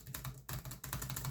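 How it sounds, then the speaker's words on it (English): Typing on the keyboard of a Lenovo ThinkPad T480 laptop, a quick run of close, crisp key clicks with a soft, cushioned bottom-out, in short bursts with two brief pauses. "the key travel on it is quite nice. Like, it's mushy, but it's like, there's a nice click to everything."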